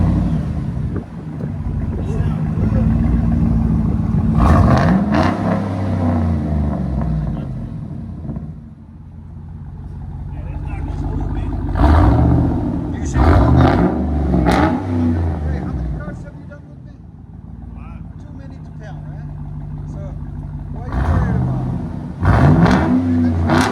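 A 2007 GMC Yukon XL Denali with a 6.2L V8 and a Dynomax Bullet exhaust in place of the removed stock muffler, giving several loud, deep revs that rise and fall between idle rumble, with people talking nearby.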